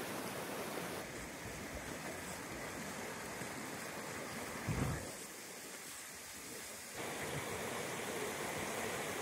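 A swollen river in the Brecon Beacons running high after heavy rainfall, a steady, fairly faint rushing roar that dips briefly midway before resuming, with no voices.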